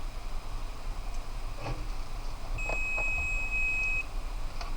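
A multimeter's steady high continuity beep sounds for about a second and a half over a low background hum, with a few faint clicks before it, during microwave oven repair.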